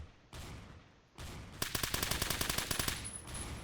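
Automatic gunfire in the video game Phantom Forces: after a couple of muffled thumps, one rapid burst of evenly spaced shots runs for over a second, then fades into a lingering ring.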